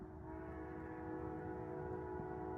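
An eastbound freight train rolls past at Chesterton, Indiana, a steady continuous rumble with sustained horn-like tones, heard from a moderate distance without talking.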